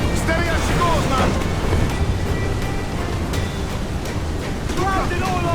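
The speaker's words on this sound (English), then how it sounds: "Sea rises against us!" Stormy sea waves surge and wind roars steadily in Assassin's Creed IV Black Flag aboard a sailing ship, a dense continuous wash, with shouted voices breaking through over the storm.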